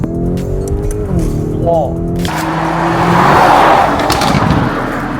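A Lamborghini Urus Performante fitted with an Akrapovič exhaust roars loudly up close, a steady engine drone giving way to a broad, rising blast, with a brief exclamation from a person over it.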